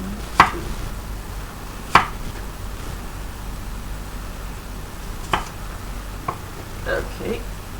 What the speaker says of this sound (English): So cut each one into about 5 apple slices.